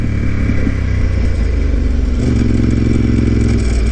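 A Ducati 748R motorcycle engine hums loud and steady while ridden along the Yabitsu Pass on Route 70 in Japan, keeping an even, throbbing drone with wind rush and no voices.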